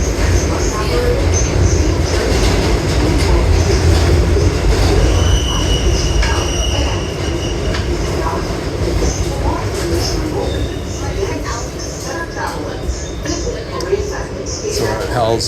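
Loud, steady rumble of a New York subway train on the J, L and M lines in motion, with wheel squeals and rattling throughout, and a voice speaking over the din.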